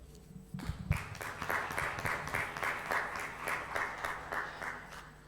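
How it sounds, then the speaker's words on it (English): An audience at an International Women's Day celebration applauds for a chief guest, with steady clapping from many hands, moderately distant and even throughout. "One more round of applause for our chief guest"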